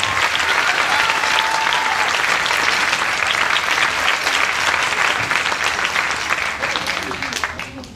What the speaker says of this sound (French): On peut applaudir Mathéis une nouvelle fois.